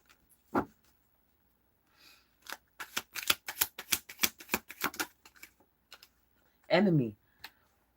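Cards shuffle in a video game as a quick flurry of soft, crisp clicks and riffles, with scattered isolated taps before it and a brief vocal sound near the end.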